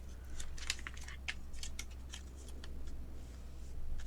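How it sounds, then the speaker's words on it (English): A folded sheet of printer paper being opened out flat while making a paper airplane, soft crinkly rustles and light crackles close by, quiet and without talk. "Now unfold the paper."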